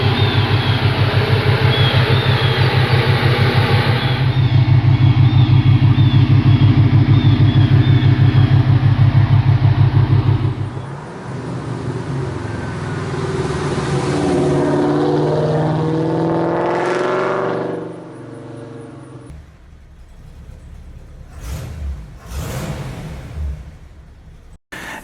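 A car engine revs hard and loud for several seconds, then drops to a lower, varying drone as the car drives on, ending in a few shorter bursts of revving.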